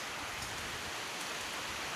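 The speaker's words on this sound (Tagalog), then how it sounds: "Rain." Rain falls steadily at a prairie campground, an even, close hiss of drops on surfaces with no voices.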